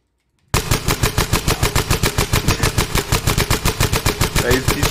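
Rapid automatic gunfire from a video game gun fires a long, even burst of sharp repeated shots, loud and close, starting abruptly after a brief silence and continuing without pause.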